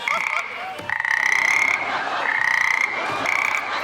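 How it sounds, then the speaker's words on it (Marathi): Frog croaking on a comedy show stage: a loud, steady run of rasping croaks that lasts the whole stretch with only brief breaks, and no talk over it. "बेडूक कुठे गेला?"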